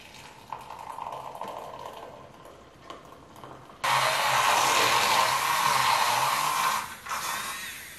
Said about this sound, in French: je vais mettre de l'eau à chauffer, vraiment pas trop longtemps pour pas que ça boue